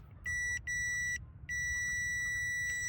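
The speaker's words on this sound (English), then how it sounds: "The buzzer will beep and the indicator light will come on if the test leads are normal" A multimeter's continuity buzzer beeps during a lead test: three steady, high electronic tones, the first two short with a brief gap and the third held longer, loud and close with no talking.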